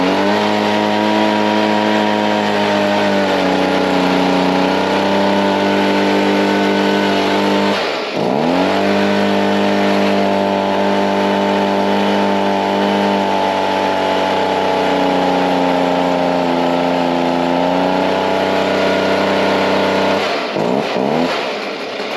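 A Stihl BG50 leaf blower's small two-stroke engine runs loud and close, a steady high buzzing drone with brief dips and recoveries in speed around the middle and near the end.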